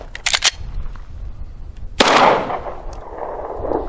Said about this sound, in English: I'm going to fire 3 rounds through a Glock and then 3 rounds through my shield.